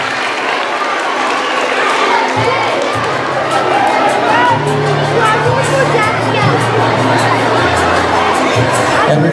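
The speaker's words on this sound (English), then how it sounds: "Let's give him a round of applause." An audience at a game show event bursts into sustained applause and cheering, a dense, loud wash of clapping with shouts and chatter throughout.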